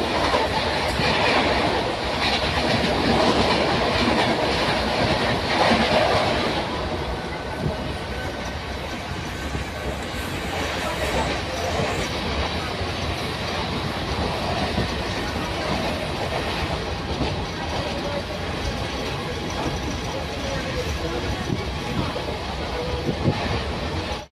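Mumbai suburban local train running near Mira Road, with steady loud rumble and rattling wheel clatter throughout, louder for the first few seconds, heard from inside a carriage.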